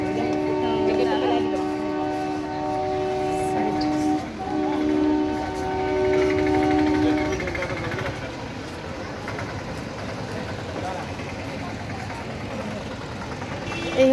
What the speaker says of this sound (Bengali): এবার আমরা বেরিয়ে যাচ্ছি কারণ আমাদের ট্রেন চলে আসছে।